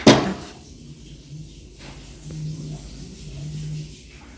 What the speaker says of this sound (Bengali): এই জানলাটা তো খোলা হয়নি তো চলো খুলে দিই